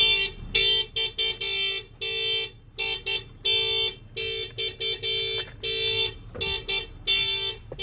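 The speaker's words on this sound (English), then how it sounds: "The alarm's gonna set off." Blaring Isuzu NRR truck alarm honking in rapid, uneven bursts with short gaps, loud and close, repeating throughout without voices.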